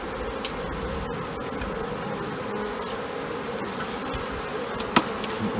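A honeybee swarm hums steadily as it is gently gathered into a box, a dense, continuous close-up buzz with no voices, broken only by a brief tap near the end.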